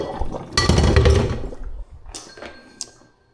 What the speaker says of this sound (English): drain the hot water off